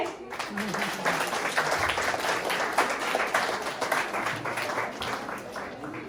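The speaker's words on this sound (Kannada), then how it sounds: "ಇನ್ನೊಂದು ರೌಂಡ್ ಚಪ್ಪಾಳೆ." An audience at an Ugadi festival celebration in Paris claps in a dense, steady burst of applause that lasts throughout, with a voice speaking underneath.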